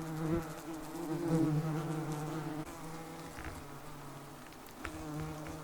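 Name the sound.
yellow jacket wasps buzzing around a removed nest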